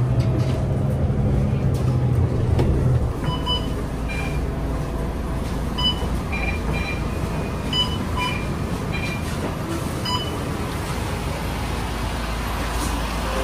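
An MRT train at a station in Singapore, with a steady loud rumble and hum of rolling rail cars, faint high squeals and distant traffic-like noise around it.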